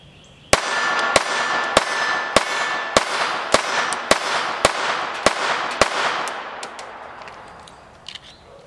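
Walther PPK/S .22 LR pistol firing 40-grain Winchester M22 bulk ammunition, eleven sharp, loud, evenly spaced shots about half a second apart, each with a ringing metallic tail, then a fading outdoor echo.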